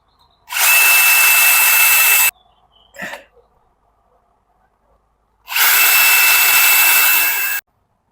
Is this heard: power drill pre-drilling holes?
yes